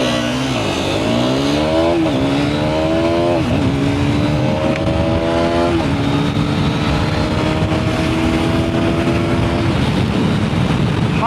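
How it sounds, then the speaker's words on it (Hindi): KTM Duke 250 and Hero Xtreme 250R motorcycles launching side by side in a road drag race; loud, close engines rev hard and climb through several gear shifts, the pitch rising and dropping repeatedly. "लॉन्च करते हैं बाइक को"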